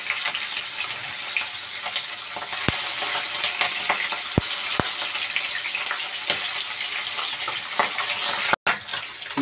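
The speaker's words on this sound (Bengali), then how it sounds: "আমি একে একে মাছগুলোকে দিয়ে দিচ্ছি, মাছগুলো ভেজে নেই।" Shing fish frying in hot oil in a home kitchen pan, a continuous close crackling sizzle with a few sharp clicks and clatters along the way, no talking.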